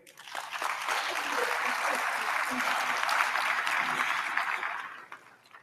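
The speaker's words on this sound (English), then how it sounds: "I think we should again give them a round of applause" A graduation ceremony crowd applauds steadily for several seconds, a broad wash of clapping that swells quickly, holds, and fades near the end.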